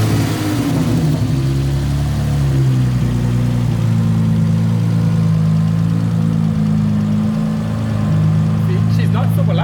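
A 1000HP Honda-engined Bisimoto minivan cranks and catches, then settles into a loud, steady, lumpy idle close by, with a deep droning hum throughout.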